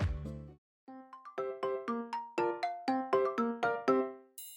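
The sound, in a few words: school bell ringing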